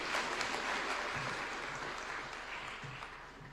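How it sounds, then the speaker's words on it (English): An audience at a nuclear energy conference in Nairobi gives sustained applause, a soft, even wash of clapping that slowly tapers in level. "Let us give another round of applause to Honorable James Orengo"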